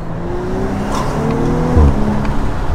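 An Audi RS5 R ABT with quattro all-wheel drive and 530 hp accelerating and cornering, a brief rising engine note with a short burst of tire noise, fairly close and loud.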